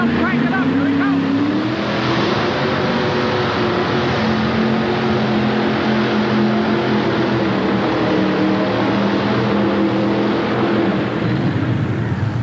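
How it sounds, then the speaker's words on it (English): At a 1988 tractor pulling event, a pulling vehicle's engine screams at high RPM, a loud sustained roar whose pitch climbs early and then holds, heard close for the whole stretch. "Listen to that engine as he wraps that engine."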